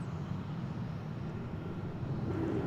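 Airbus A300 passing at DFW Airport as a steady low jet roar, moderately loud and slightly swelling toward the end, with no talk.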